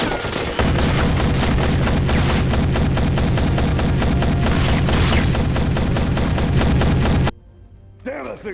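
An LMT 10.5-inch rifle fires a long, fast string of loud, concussive shots at close range, the blasts running together almost steadily for about seven seconds before stopping abruptly, leaving a faint, quieter tail.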